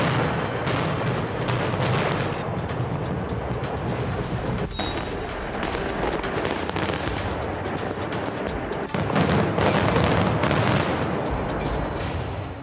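Explosions demolish the tunnels of North Korea's nuclear test site with a sustained, dense roar of crackling blasts and rumbling debris lasting over twelve seconds. The sound stays loud and continuous throughout, with no voices.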